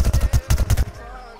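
Rapid bursts of automatic gunfire from a Plants vs Zombies Garden Warfare 2 match, about eight loud close shots in quick rhythm, then a short ringing tail as the firing stops.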